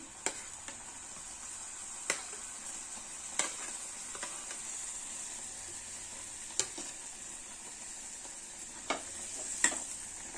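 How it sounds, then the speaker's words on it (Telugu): Gravy bubbling steadily with fried stuffed eggplants in it, a constant high sizzle broken by occasional sharp pops and taps from the pan. "ఈ గ్రేవీ ఇలా ఉడుకుతూ ఉన్నప్పుడు మనం ఫ్రై చేసి పెట్టుకున్న వంకాయల్ని ఇందులోకి షిఫ్ట్ చేసేసుకున్నాము"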